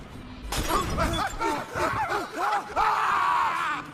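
Enemies in the video game Rise of the Tomb Raider are hit by a molotov: a glass bottle shatters, then several overlapping agonised screams and groans rise and fall, loud and close.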